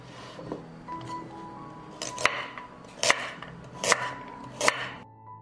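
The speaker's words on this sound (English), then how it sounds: "Now I will cut 500 grams of peeled and washed carrots." A knife chops through peeled, washed carrots on a board, five sharp, loud cuts spaced about a second apart, with light background hum between strokes.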